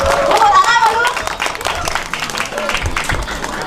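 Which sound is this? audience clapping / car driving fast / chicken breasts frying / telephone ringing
audience clapping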